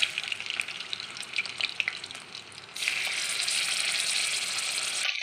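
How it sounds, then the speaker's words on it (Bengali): Hilsa fish heads fry in oil in a kadai, a crackling, spitting sizzle that swells into a denser, louder hiss partway through, heard up close with no voices. "ইলিশ মাছের মাথাগুলো ভেজে নেবো।"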